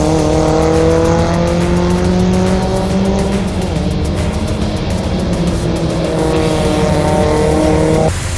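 Race cars in a women's KYOJO CUP one-make race at Fuji Speedway accelerate side by side out of the TGR corner, engines droning loudly and continuously with rising pitch and some tire noise.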